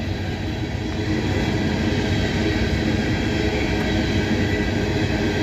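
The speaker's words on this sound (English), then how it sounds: "the SEWS coal train going through West Virginia, it just come out of Pennsylvania. It's fully loaded" A fully loaded SEWS coal train rolls through West Virginia in a loud, continuous rumble of wagons on rails, close and steady throughout.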